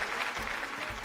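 A brief burst of steady clapping from a television game show studio audience, a dense crowd of hands at moderate volume with no voices.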